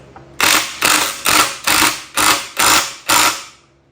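The oil pump on a 1970–1984 Harley-Davidson Shovelhead bottom end, turned by hand during assembly, gives seven loud, evenly spaced mechanical ratcheting whirs close up, each fading before the next, then stops.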